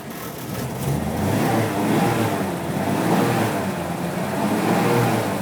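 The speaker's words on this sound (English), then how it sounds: "I'll rev the engine up." A 1976 Toyota Land Cruiser engine revving up, a steady rumbling roar that rises and holds, close and loud, with no talking.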